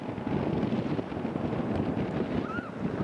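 Steady wind buffets the microphone on a seaside boardwalk, a continuous rushing roar with no breaks.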